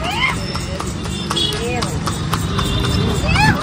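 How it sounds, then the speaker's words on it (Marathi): Horse hooves clip-clop steadily as a horse pulls a cart carrying riders in Karnataka, with loud voices and music playing over the hoofbeats. "आम्ही घोड्यावर बसतोय घोडा गाडीमध्ये"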